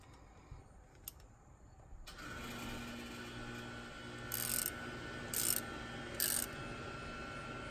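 Husky 144-position dual-pawl ratchet clicking while working on the inner fender of a 1964 Chevy Impala Super Sport, with three short bursts of close, crisp clicking over a steady background hum.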